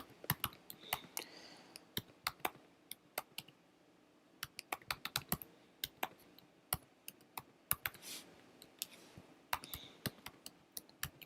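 Irregular bursts of sharp clicks from a computer keyboard as an email address is typed, with clustered keystrokes and short pauses, close and fairly quiet.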